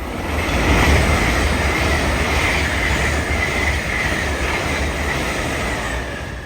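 An LNER Azuma train passes through Peterborough station on the East Coast Main Line with a loud, steady rumble and wheel noise that lasts throughout, close by, with no voices.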